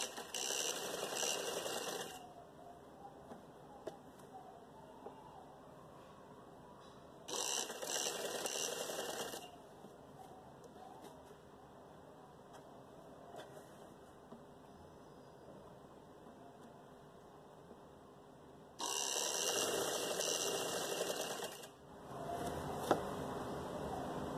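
A sewing machine stitches elastic into trousers in three loud, even whirring bursts of a few seconds each, separated by quiet pauses with faint room hum.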